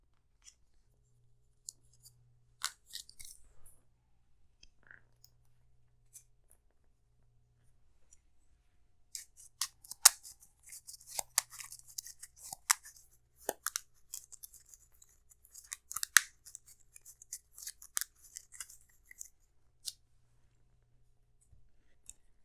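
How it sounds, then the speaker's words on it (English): A deck of cards for the Arkham Horror card game is shuffled, giving scattered soft clicks and then a denser run of quiet riffling snaps, close and faint with no talk. "Shuffle the set-aside Ravager from the deep and young deep one enemies into the encounter deck"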